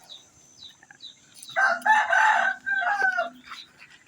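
A Paraoakan rooster in a pen crows once, loud and close, in a long strained call, with softer clucks and short calls from the fowl before it.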